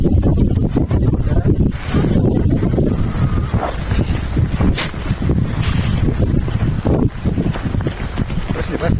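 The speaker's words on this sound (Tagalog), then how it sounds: "Medyo mahangin." Strong, steady wind buffets the microphone throughout, a loud blustery roar with gusts, and no clear speech over it.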